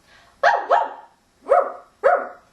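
Two small excited dogs running to the park bark in four sharp, loud, close yips, in two quick pairs with short pauses between, with no other sound around them.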